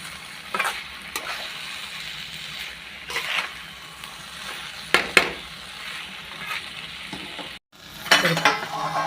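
Onion chutney being stir-fried on low heat in a pan, a soft continuous sizzle broken by several scraping strokes of a spatula and a brief metallic clink, with no talking.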